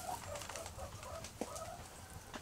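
Aseel hens, good-sized birds of about five to six pounds, cluck softly in their pen, a run of short low calls with one sharper note partway through, close by and fairly quiet.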